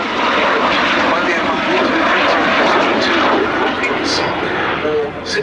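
A pair of BAC Strikemaster jets passes at the Duxford summer airshow, a loud sustained engine roar that swells and holds near, with no break.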